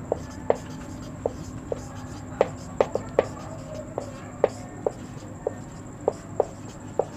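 Pen strokes and taps on paper as math solutions are written by hand, sharp irregular ticks spaced through a quiet room hum.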